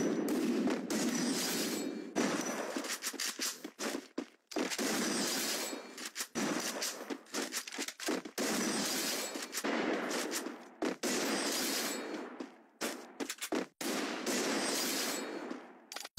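Dense bursts of rapid gunfire crackle repeatedly in the game Free Fire, loud and close, broken by short gaps.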